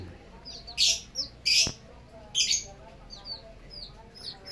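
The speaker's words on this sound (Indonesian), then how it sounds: "anak ayam pitik 1 2 3 4 ada 8" Several short, high-pitched chirps from baby chicks come in bursts, with quieter peeps between them over faint background noise.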